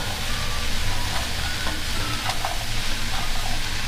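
Vegetables stir-frying in a wok for a simple borscht-style mixed vegetable soup, with a loud steady sizzle and intermittent scraping and tossing clatter.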